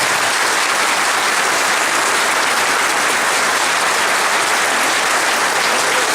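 Sustained, dense applause from a large crowd at a political campaign rally, loud and steady throughout with no pauses.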